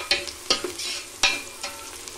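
Ingredients browning in a pan for masala rice: a soft steady sizzle broken by several sharp stirring knocks and scrapes of a utensil against the pan, close and without talk.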